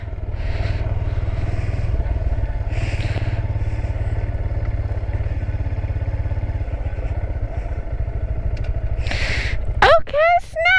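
Honda Grom motorcycle being ridden through gear shifts, a steady low engine drone with a rider talking over it and a rising rev near the end.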